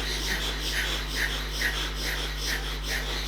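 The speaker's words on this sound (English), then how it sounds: "Hear yourself breathing." Rhythmic breathing exercise with the belly flicked on each breath: short, forceful airy puffs repeat at a quick, even pace, close and moderately loud over a steady low hum.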